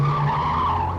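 A car skids off the road with a loud, steady tyre screech that holds for about a second, with no talk.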